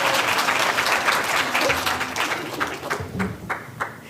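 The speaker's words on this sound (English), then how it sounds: "Round of applause for our volunteer." An audience applauds a volunteer after a simulation role-play, a steady wash of many hands clapping that stays loud, then thins slightly toward the end.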